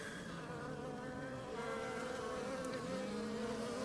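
Honeybees buzz steadily at the hive as workers clean out dead bees, a dense, continuous low drone with individual wingbeat tones rising and falling close by.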